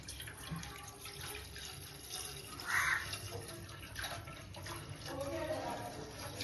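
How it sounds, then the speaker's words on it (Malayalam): Milk trickles and splashes into a pot, rising briefly in the middle, amid a faint hiss of background noise. "നമുക്ക് ഈ ഒരൊട്ട പാല് ഇതിലേക്ക് ഒഴിക്കാം"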